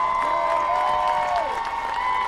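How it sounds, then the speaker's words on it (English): Crowd applause fills the stands at a women's college soccer first-round match between Radford and Duke, a steady, dense wash of clapping with faint tonal ringing over it throughout. "And a big round of applause for Jordan Phillips"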